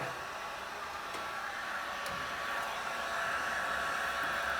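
A heat gun blows a steady, fairly loud hiss of hot air while quarter midget tire rubber is scraped, a few faint scraping ticks under the continuous airflow.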